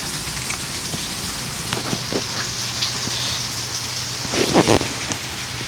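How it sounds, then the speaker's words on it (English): Heavy thunderstorm with steady, dense rain hissing on surfaces, a low rumble underneath and a brief louder burst near the end, no voices. "It's a heavy thunderstorm."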